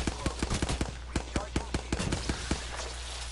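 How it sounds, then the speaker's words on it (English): Gunfire in the video game Apex Legends: a rapid string of sharp, evenly spaced shots cracks out across the whole stretch over a steady low background hum. "Oh, he's shooting at me."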